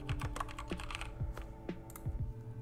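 A name is typed on a computer keyboard in a quick run of close, crisp keystrokes with short pauses, quiet and with no talking.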